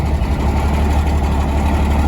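A Smokey and the Bandit tribute truck with a patched exhaust leak idles steadily after two months unstarted, a loud, continuous low rumble close by with no talk.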